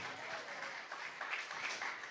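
A church congregation applauds in a full, continuous patter of many hands, moderately loud and steady, with a few brighter swells in the second half and no speech over it.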